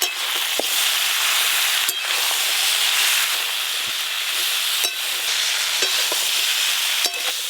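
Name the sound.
stirring and frying spiced fish curry in a pan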